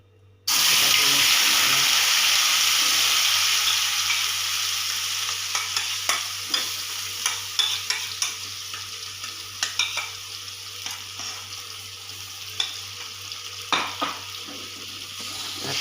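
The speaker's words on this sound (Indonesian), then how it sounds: "Ini bumbu yang tadi dihaluskan. Kita tumis." Ground spice paste for Balinese ayam betutu sautés in hot oil, starting with a sudden loud hiss that settles into a continuous sizzle. Scrapes and taps of a stirring utensil against the pan recur throughout, with no voices.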